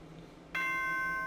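A bright electronic chime from the Danganronpa video game rings out suddenly after a quiet moment and sustains clearly to the end of the clip.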